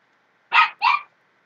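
A dog gives two quick, close barks in a row, then falls silent.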